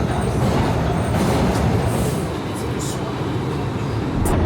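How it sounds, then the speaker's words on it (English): A New York City subway train roars with a loud, steady rush of broadband rail noise. Faint high wheel squeals come through it now and then. "We're coming down here, we're gonna hop on our train, and we're gonna head that way."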